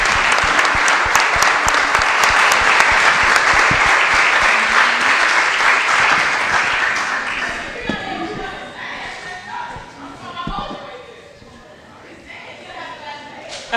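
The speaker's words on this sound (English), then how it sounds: "Can I get a round of applause for our panelists?" Audience at a panel discussion applauding the panelists, a loud dense burst of many hands clapping that lasts several seconds, then thins out into scattered claps, shuffling and murmured voices as the room settles.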